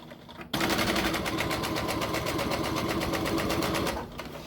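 Sewing machine running steadily and close while stitching the top panel of a fabric surgical skull cap, one continuous loud run that starts abruptly and eases off at the end.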